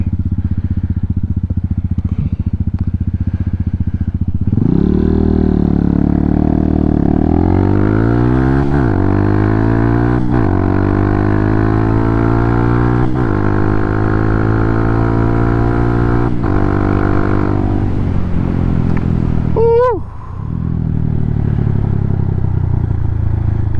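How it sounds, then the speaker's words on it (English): A Honda Hawk 250 motorcycle engine runs close by, idling and then revving smoothly up and down several times, loud and steady, with a brief dip near the end. "I love little engines."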